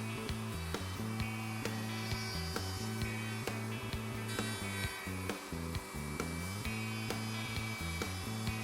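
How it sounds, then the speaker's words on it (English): A router in a router table with a Leigh RTJ400 jig cuts half-blind dovetails in wood, making light climb cuts through the comb openings. The motor whines loudly and steadily, with brief bites and dips as each opening is routed. "A light climb cut is made and routing is done in all comb openings."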